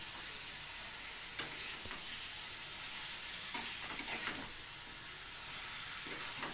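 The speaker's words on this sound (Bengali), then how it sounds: "তো চলো এবার আমি এটা ভালো করে কষাবো।" Meat, chicken or mutton, stir-fried and browned in a pan, with steady sizzling and frying hiss throughout and scattered scraping stirs and clinks from the utensil, fairly close and with no talking.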